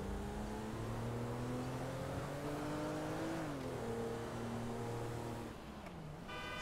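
A car driving in Grand Theft Auto V, its engine holding a steady, loud drone that rises and falls gently as it shifts gears, continuous throughout.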